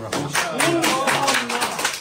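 A crowd claps in a brief burst of applause while a voice talks over it.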